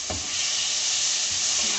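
Tomatoes dropped onto sizzling cumin in a hot pan for a masala bhindi dish, giving a loud, steady hiss of frying with a couple of soft stirring knocks, no talking.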